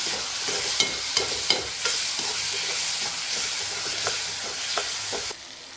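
A spoon or spatula stirs sprouted moth bean usal in a sizzling pan, scraping in a quick series of clinks over a steady fry. The sizzle drops away near the end.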